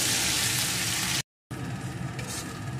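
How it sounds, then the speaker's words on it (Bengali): Spices and tomato sauce sautéing in a pan for a vegetarian soybean dhokar dalna, a steady close broadband sizzle that cuts out briefly for a moment of silence, then resumes with light stirring scrapes. "এখন আমি সব কিছু ভালো করে কষিয়ে নেব"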